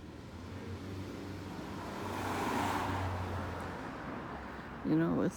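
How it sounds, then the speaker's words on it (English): Cars passing on a road in chilly outdoor air, a steady roadway rush that swells as vehicles go by, with a brief louder sound near the end. "all these cars, they're passing by with the windows wide open."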